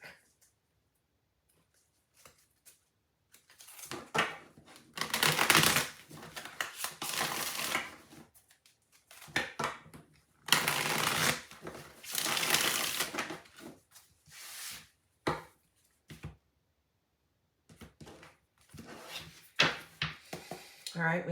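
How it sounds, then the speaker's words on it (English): A tarot card deck is shuffled up close in several rustling, riffling bursts of a few seconds each, separated by quiet pauses, with shorter flicks toward the end. "Let's get a better shuffle on this deck."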